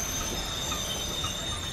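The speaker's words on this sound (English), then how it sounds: "It's a ghost train." A ghost train in the World War 2 Rebuilder video game squeals on its rails. Shrill, steady metallic screeching rides over a low rumble for the whole short moment, moderately loud and with no voices.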